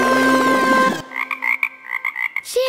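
A cartoonish frog croaks in a children's song, a series of short rhythmic croaks following a loud musical passage, ending with a brief sung note.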